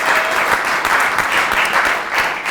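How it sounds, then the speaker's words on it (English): An audience at an arts, culture and classroom panel event applauds, a dense even wash of many hands clapping at steady loudness for the whole stretch, with no talking. "Big round of applause."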